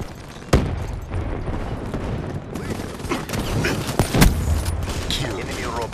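Gunfire rings out in a multiplayer video game, with a sharp sniper crack early on, then scattered shots and booms over a dense, busy battle background.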